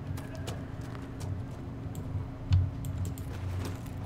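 Horse hooves clip-clop in Dragon Age: Inquisition, a steady soft trotting rhythm of light thuds under faint game ambience, with one slightly louder hoof strike.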